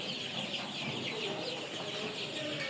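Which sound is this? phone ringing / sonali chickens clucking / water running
sonali chickens clucking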